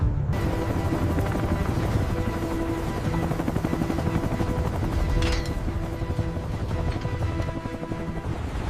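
A WWII-era helicopter lifts off after being restored from a jungle crash, its rotor giving a loud, steady, throbbing chop close by that runs unbroken throughout.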